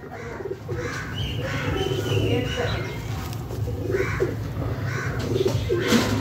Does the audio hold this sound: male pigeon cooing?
yes